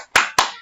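Two sharp, close hand claps a fraction of a second apart, part of a rhythmic group clapping chant game led for teachers, crisp and bright with a short ring after each.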